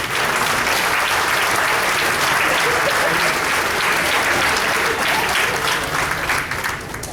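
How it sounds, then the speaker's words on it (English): Audience applause at an installation dinner, a full sustained round of clapping from a crowd, steady for about seven seconds and tapering slightly at the end. "Can we have a great big applause for everyone?"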